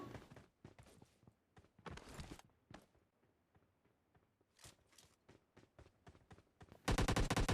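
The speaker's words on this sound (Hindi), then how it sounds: "ये मेरे पे गोली चला पर इसके गोली लगी नहीं" Gunfire in the PUBG Lite battle royale game: scattered sharp shots and short bursts with footstep-like ticks between them, ending in a loud sustained volley of rapid automatic fire.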